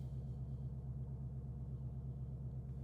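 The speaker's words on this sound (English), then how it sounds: "The sound of the iconic V8 is always good to have." A 2026 Ford Mustang GT with a 5.0 V8 and manual gearbox, Performance Pack, driving: a steady, loud low engine rumble holds evenly throughout without pauses or voices.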